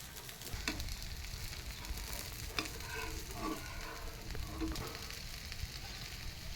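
Moong dal dosa fries in oil on a pan, a soft continuous sizzle with faint crackle and a few light scrapes, quiet and close with no talk.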